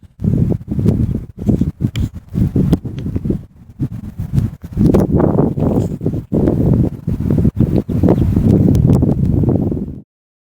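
Gusty stormy wind in Kyrgyzstan batters the microphone in rough bursts, rising and dropping repeatedly before cutting off abruptly.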